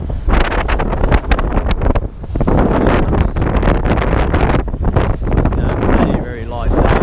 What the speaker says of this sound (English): Maybe 10 knots, northwester blowing at me.